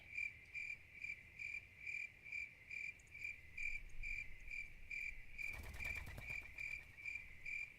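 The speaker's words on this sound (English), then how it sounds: "At least the crickets sound like they're enjoying their time here." In a nighttime fishing video game, crickets trill in regular pulses over a soft hum, then a brief burst of louder watery rushing noise joins near the end while the chirping keeps going; nobody speaks.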